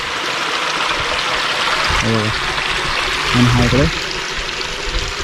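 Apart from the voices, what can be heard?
spring water flowing out from under stones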